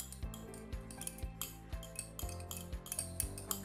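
A spoon stirs steadily in a container, clinking against the sides in a regular rhythm of about two sharp metallic taps per second, close and clear with no talk.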